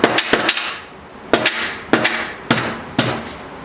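Five sharp hammer strikes on a Honda Civic body part in a garage: a quick double hit, a single blow, then three evenly spaced hits about half a second apart, each loud, close and metallic with a short ringing decay.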